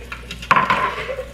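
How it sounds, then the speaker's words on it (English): Hot water from a kitchen tap starts abruptly with a small clatter, then runs in a steady, close hiss that carries to the end. "I'm gonna put the running hot water over this"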